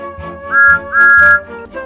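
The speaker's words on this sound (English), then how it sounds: "The conductor blew his whistle" Two sharp, high whistle blasts, a short one then a longer one, sound loudly over steady music.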